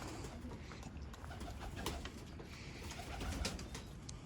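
Pigeons coo steadily near a heavy stone water bowl outdoors, their soft repeated calls layered over a constant background hiss with no talking.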